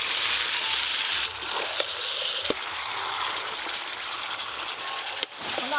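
Chicken just added to a pan of cooked-down spiced masala sizzles and fries steadily, a dense continuous crackle with a couple of sharp clinks of a utensil against the pan.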